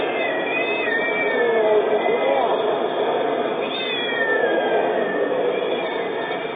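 House cats confined in bags during the Shanghai lockdown meow and yowl continuously, several distressed voices overlapping through a narrow, muffled recording with steady background noise.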